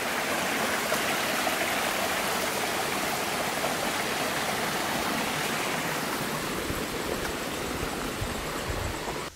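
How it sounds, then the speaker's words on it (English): A small waterfall cascade on a forest stream gives a steady, loud, full rush of falling water that holds unbroken from start to end, with no voices. "Great little cascade through here."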